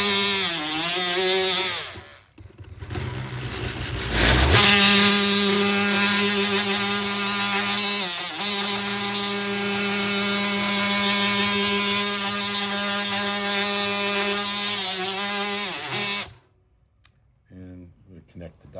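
A steady, loud whining power drill bores into a plastic knee bone model almost continuously for about fifteen seconds, with a brief pause early on, then stops abruptly.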